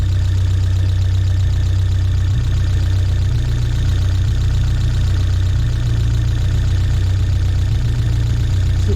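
A 1979 Fiat Spider 124 engine runs steadily at a fast idle during ignition timing adjustment, a constant low droning hum with a slight uneven knock, loud and close, with no talking.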